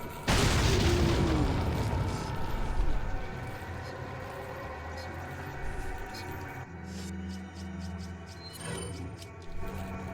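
A grenade goes off in Resident Evil 4, a loud booming blast at the start that rolls into a long rumbling decay, followed by quieter in-game mechanical and impact sounds.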